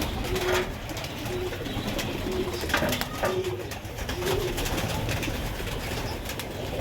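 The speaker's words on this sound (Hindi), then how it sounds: "ये जो कबूतर शाम को घर बैठते हैं हसन बेटा, वो कौन से होते हैं?" Pigeons coo at a steady distance in a loft or rooftop setting at dusk, with repeated soft low coos over a constant background hum and no one talking.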